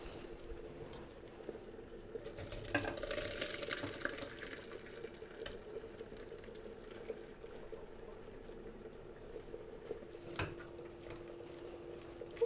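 Faint, low bubbling of blackberries simmering in a pot, with a gentle watery burble and a couple of light clicks in a quiet room.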